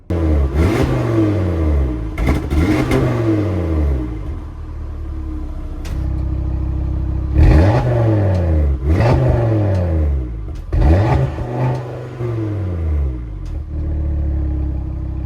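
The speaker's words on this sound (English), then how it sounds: "Let's show you guys some sounds, some revs." A car engine revs up hard several times in short bursts, each rising and falling in pitch, loud and close with idling rumble between.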